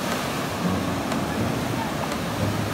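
Strong sea current surging at a beach, a loud, dense rush of water and wind that holds steady from start to finish.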